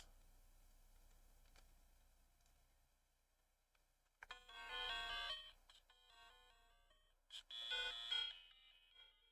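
Short electronic beeps from a handheld game console, a Game Boy Pocket or DSi, as it powers on, two bright tonal bursts after a faint hum, close and alone.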